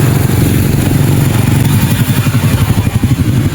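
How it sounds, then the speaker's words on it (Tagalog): A steady stream of motorcycles roars past close by, engines droning and revving loudly and continuously with rattling clatter, in a flooded provincial area. "Daming motor, oh."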